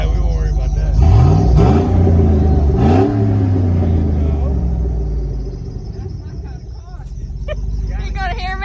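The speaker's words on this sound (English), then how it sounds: "You're going to hear me coming. I unbolted the exhaust." A cammed and tuned SUV with its exhaust unbolted revs hard close by, the engine rising and falling in loud rumbling pulls, while people talk over it.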